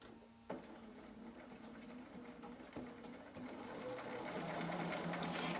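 Sewing machine running steadily through decorative stitching with thick specialty thread, a continuous close whirring hum that builds slightly toward the end, with no talk.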